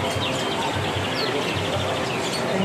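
A canary sings amid the bustle of an Indonesian bird market, its high chirps and warbling trills blending with other birdsong over a steady, busy background hum.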